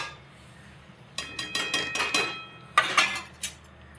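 A spoon scrapes and clinks against a pot as roasted semolina is stirred into boiling salted water, in short bursts of quick rattling strokes after a quiet start, with no talking.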